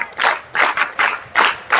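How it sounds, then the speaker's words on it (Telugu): An audience at a talk claps together in unison, five or six short loud bursts of clapping in a steady rhythm with brief gaps between them. "ఈ ఆన్సర్ కరెక్ట్గా చెప్పినందుకు ఒకసారి మీరు గట్టిగా చప్పట్లు కొట్టుకోండి"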